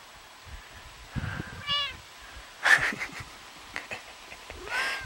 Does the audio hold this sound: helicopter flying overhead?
no